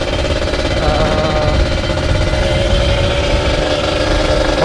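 A standard Kawasaki Ninja 150RR motorcycle, geared with a 38-tooth sprocket on a 415 chain, runs steadily up close, its loud, buzzy two-stroke-like drone holding constant with no talk over it.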